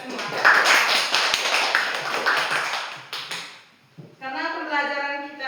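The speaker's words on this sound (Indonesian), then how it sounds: "tepuk tangan untuk kita semua" Children in a classroom clap their hands together in a loud burst of mixed claps and taps, fading after about three seconds, followed by a voice speaking.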